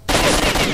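Sustained automatic gunfire as a magazine is emptied in the video game S.T.A.L.K.E.R.: Shadow of Chernobyl, a loud dense burst of rapid shots filling nearly the whole moment.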